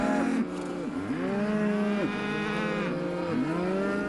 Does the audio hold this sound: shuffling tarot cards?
no